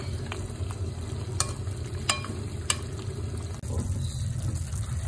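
Adobo spare ribs with chili fry in a pan, a steady sizzle under a few distinct scraping stirs of a utensil, close up.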